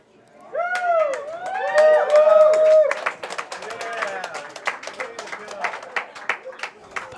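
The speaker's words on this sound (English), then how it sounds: "And big response from the crowd here" At the Eastern Newbury Archery Centre, after a gold medal archery match, a crowd cheers with loud whoops. Steady applause and scattered clapping follow and continue to the end.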